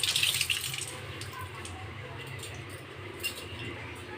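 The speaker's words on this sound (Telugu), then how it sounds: "మిగతా వాటర్లో వాష్ చేసి చూద్దామండి" Velvet glass bangles being swished and washed in water, with splashing and faint glassy clinks, busiest in the opening moments before settling into a softer, steady wash.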